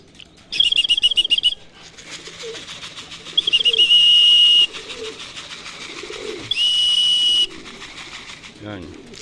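Pigeons coo and flutter nearby in a loft aviary, with bursts of wing flapping and chirpy calls over a steady background, and a person speaks intermittently.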